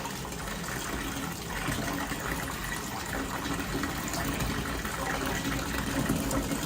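Tap water runs steadily into a basin where cleats are soaking, giving a continuous loud gushing, splashing rush with no pauses.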